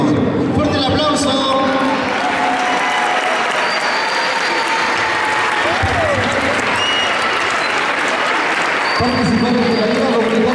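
A school sports-program closing ceremony crowd gives loud, sustained applause for the women's and men's handball teams, a dense wash of clapping with voices talking over it throughout.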